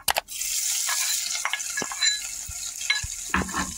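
Crushed green chili, garlic and ginger sautéing in oil for kat vada, a steady close sizzle punctuated by spoon clanks and stirring scrapes against the pan, with a sharp knock at the start and no voices.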